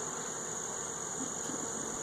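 A steady, dense buzz of honeybees in a hive hums without pause, close by, with no voices.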